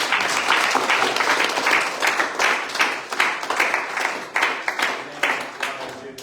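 Church congregation applauding and clapping at a worship service, a dense, steady roar of many hands with a few faint voices mixed in, sustained loudly throughout.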